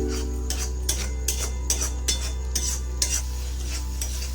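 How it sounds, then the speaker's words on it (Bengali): Paneer masala with tomato sauce is stirred in a pan on low heat. A spoon scrapes and taps in a regular rhythm about twice a second over a steady low hum, close and clear, with no speech. "সসটা দিয়েও এক মিনিট কষিয়ে নিলাম"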